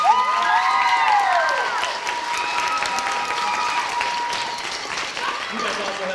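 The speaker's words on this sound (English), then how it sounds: "Give them a big round of applause." An audience applauds at a middle school spring band concert, a full continuous round of clapping with some cheering, while a voice and whistle-like tones rise over the crowd early on.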